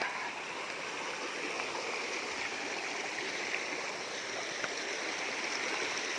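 A river stream rushes steadily in an outdoor natural setting, a constant broadband wash of flowing water with no pauses and no voices.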